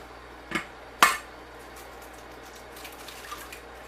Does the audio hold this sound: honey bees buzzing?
no